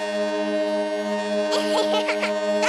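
A loud, sustained ferry boat horn blast drones steadily throughout, heard from inside a car aboard a small ferry, with voices briefly audible underneath toward the end.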